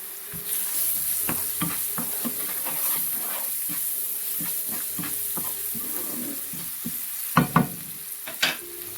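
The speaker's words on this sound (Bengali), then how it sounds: "পেঁয়াজটা ভাজা হয়ে গেছে" Onion fries in a pan with a continuous close hiss and sizzle, and a spatula stirs it with soft scraping taps, ending in a few sharper knocks against the pan.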